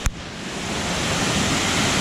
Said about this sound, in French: Immense la cascade.